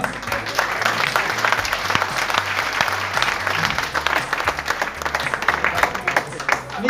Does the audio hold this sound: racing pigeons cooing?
no